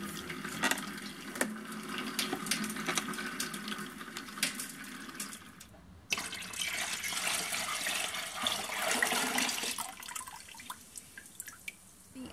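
Apple cider juice running out of a homemade apple press, a steady close trickle of dripping liquid with a brief break midway, no talking.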